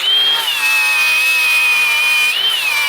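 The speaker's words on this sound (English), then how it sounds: "So I'll grind them all off" An angle grinder whines steadily and loudly as it grinds rivet heads off a part from a Suzuki 125cc two-stroke engine, with a continuous high tone that dips slightly partway through.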